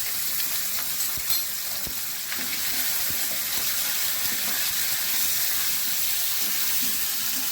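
Onion and grated ginger sizzling in hot oil in a frying pan while a fish-head cabbage dish is cooked, a steady close hiss with faint occasional stirring clicks.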